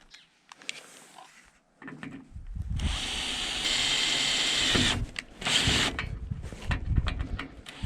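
A power drill bores a hole just below an existing hole for self-drilling screws. Loud, steady whirring bursts come in two main runs with short pauses between them, after some quieter handling at the start.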